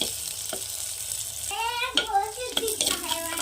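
Ingredients sizzle steadily in a pan before minced keema is added, a constant frying hiss with a few clinks, and a voice briefly heard over it.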